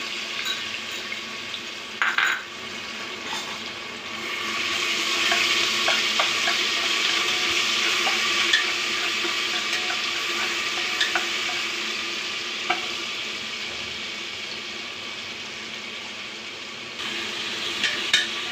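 Garlic-ginger paste frying in hot oil in a pan for chicken handi biryani gives a loud, steady, dense sizzle that swells and holds for many seconds, with occasional utensil clinks and no voices.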